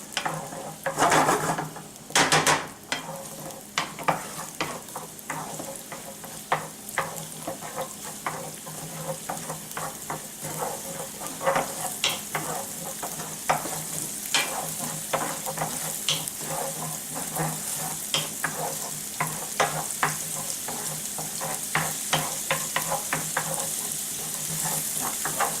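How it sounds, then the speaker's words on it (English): Chopped shallot sautés in a hot pan until translucent, a steady close sizzle with frequent sharp crackles and pops and occasional stirring scrapes, continuing without pause and no talking. "I want to add my shallot in this pan and just saute it until translucent"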